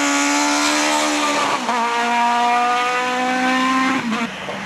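A two-wheel-drive Renault Mégane rally car races through a stage of the 2000 Circuit des Ardennes rally, its engine howling loud and close with rising revs, gear-change dips and a hint of tyre squeal.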